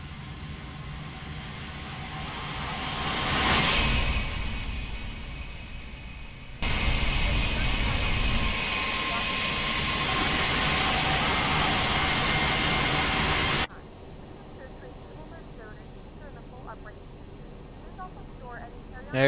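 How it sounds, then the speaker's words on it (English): Simulated Airbus A319 jet engines roar past in a flyby, swelling to a loud peak and holding steady before cutting off abruptly, leaving a quieter background hum. "Let's do a quick flyby. Watch your ears."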